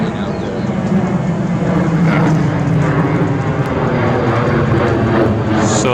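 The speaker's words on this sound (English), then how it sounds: "it looks like they got the big airplanes flying" Large firefighting airplanes fly over the burned Carr fire area the morning after, a steady broad engine roar holding throughout at a fairly loud, constant level with no talk.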